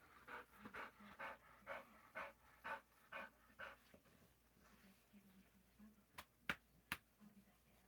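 A dog pants close by in quick, rhythmic huffs, about a dozen breaths over four seconds, then trails off into soft breathing and a few sharp clicks in a quiet room.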